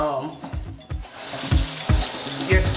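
Water runs from a tap and splashes irregularly as hair is rinsed, with intermittent sloshing bursts close by.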